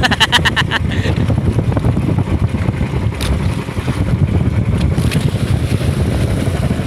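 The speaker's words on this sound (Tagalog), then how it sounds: "malakas na hangin." Strong wind buffets the microphone in a steady, rumbling roar that runs the whole time, with a brief rattling burst near the start.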